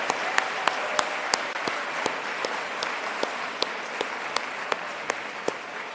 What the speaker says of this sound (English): Another huge round of applause for Eliana